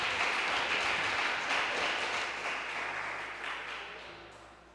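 A church congregation at a live Portuguese-language worship service claps loudly, a broad wash of applause that slowly fades away.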